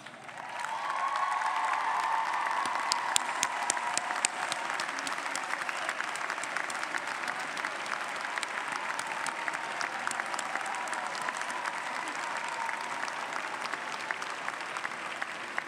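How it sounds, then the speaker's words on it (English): At an undergraduate commencement ceremony, a large audience gives sustained applause to graduates' families, a broad, even roar of clapping lasting well over ten seconds with a few sharper claps standing out. "Would the family members of our graduating students please rise to receive our applause?"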